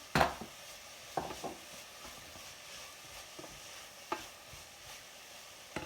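Onions, leeks and spring onion soften in oil in a pan, giving a quiet, steady sizzle broken by a few sharp clinks and scrapes of a spoon stirring against the pan.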